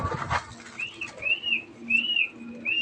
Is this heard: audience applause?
no